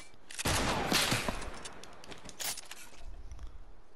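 Gunfire in a 1v1 video game match with a sniper rifle: a few sharp shots with reverberant tails, one burst near the start, another around the middle, then fading rumble, with no talking.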